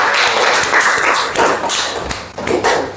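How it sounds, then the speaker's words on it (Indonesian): A classroom of students applauds together, a loud, fairly steady burst of clapping lasting a few seconds. "Bagus. Kasih aplaus dulu."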